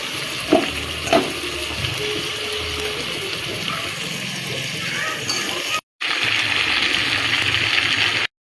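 Meat hits frying spice masala made with chilli powder, coriander powder and a little water, setting off a steady loud sizzle with a couple of sharp clatters early on, a brief cut, then a stronger hiss.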